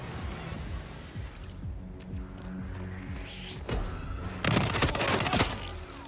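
Gunfire in the VR shooter game Hitman 3 set in Berlin: scattered quiet shots and mechanical clicks, then a louder burst of rapid shots near the end over a low game background.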